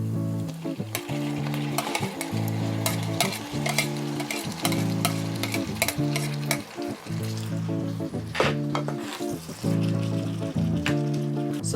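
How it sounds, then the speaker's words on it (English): Onions and garlic fry in a pan with a steady close sizzle, broken by repeated scraping stirs throughout; no one talks. "So our onions and garlic are frying away."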